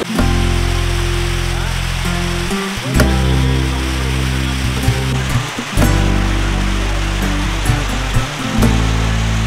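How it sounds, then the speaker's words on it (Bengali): A waterfall at Rock Garden in Darjeeling roars as a loud, continuous rushing wash of water, steady throughout with brief dips in the noise. "তো সামনে একটা ঝর্ণা রয়েছে, ঝর্ণাটা তোমাদের দেখায়।"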